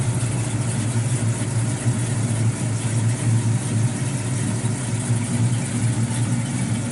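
A 1972 Pontiac GTO LeMans with an aluminum-headed 400 V8, Edelbrock heads, roller cam and MSD ignition idles with a steady, even low rumble, close and alone.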